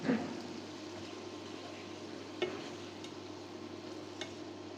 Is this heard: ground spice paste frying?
yes